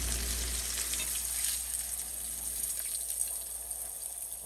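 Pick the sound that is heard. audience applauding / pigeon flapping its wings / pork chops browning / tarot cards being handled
pork chops browning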